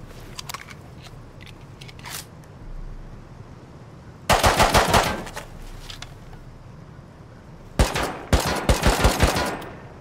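Two bursts of automatic gunfire in the Rust survival game, the first around four seconds in and the second near eight seconds, each a rapid train of loud, sharp shots standing out against quiet ambient background.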